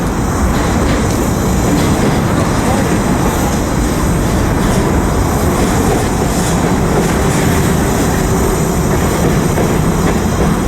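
A manifest freight train passes near Riverside Station in West Colton, a loud continuous roar of wheels and rumbling cars with rhythmic clickety-clack, constant and close for the whole stretch.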